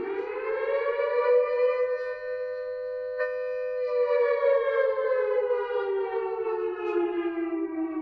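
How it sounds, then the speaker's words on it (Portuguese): A civil defense siren wails loud and continuous, its rising-and-falling tone sustained steadily throughout with no voices. "Outra observação muito importante que nós temos que fazer é a respeito do som que você escuta da sirene."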